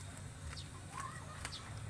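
Chickens on a farm cluck and chirp right after feeding, a few short calls scattered over a low steady hum of background noise, with no talk.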